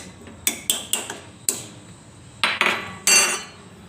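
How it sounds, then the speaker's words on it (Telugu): Metal kitchen vessels clink and clatter as a perforated strainer bowl is set onto a pot while cooking horse gram rasam. Four crisp taps come in quick succession, a short pause follows, then a few louder scraping knocks sound close by. "ఇలా ఒక గిన్నె తీసుకొని అందు దానిపైన ఒక రంధ్రాలు ఉన్న గిన్నె పెట్టుకోవాలి"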